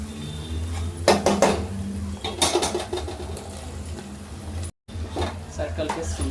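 A spoon stirs potatoes and tomatoes in a cooking pot for an egg and potato gravy, with close bursts of metallic scraping and clatter against the pot, separated by brief pauses.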